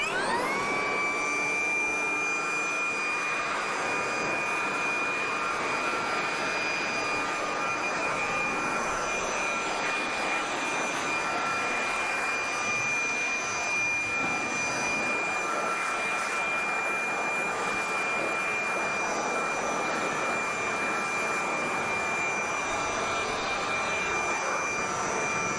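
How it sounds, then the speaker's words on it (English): A compressed-air nozzle hisses steadily and loudly as air is blown back through the fan of a hay-making machine, a broad, even rush with a high whine running nearly unchanged for about twenty-five seconds, with no talking. "We can blow back through the fan here."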